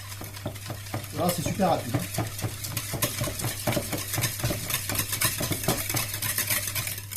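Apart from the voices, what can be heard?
whisking crème fraîche and eggs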